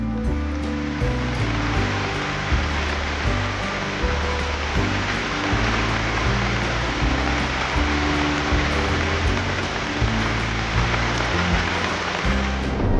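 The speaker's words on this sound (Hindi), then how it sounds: "ये घुंघरुओं की तरह बूंदों की आवाज आ रही है।" Heavy monsoon downpour in Mumbai, dense rain drops falling steadily and loudly in a continuous wash with no talk.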